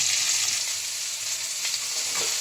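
Vegetables, including beans, frying in a pan produce a loud, even hiss of sizzling, close up, with faint stirring scrapes toward the end.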